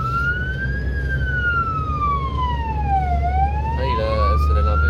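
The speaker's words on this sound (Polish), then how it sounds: "A ile syrena wyje? 3 minuty?" A siren wails loudly and continuously, its pitch sliding slowly down and then back up, with traffic rumble underneath.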